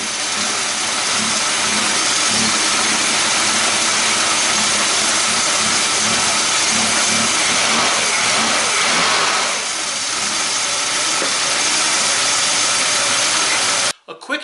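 A 1965 Ford Mustang 200ci straight-six engine with an Autolite 1100 carburetor runs steadily at a loud, even idle, with a broad mechanical rumble and slight fluctuations in revs, then cuts off abruptly near the end.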